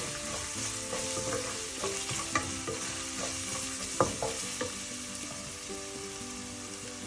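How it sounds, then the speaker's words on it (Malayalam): White tuna fish curry, made with kudampuli, is stirred in a pan over steady sizzling and frying, with a few sharp clicks of the spoon against the pan and no talking. "എല്ലാം കൂടെ നന്നായി മിക്സ് ചെയ്യാം."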